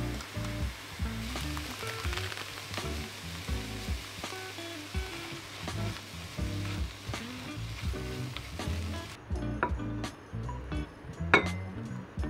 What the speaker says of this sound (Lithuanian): tai dabar viskas kepa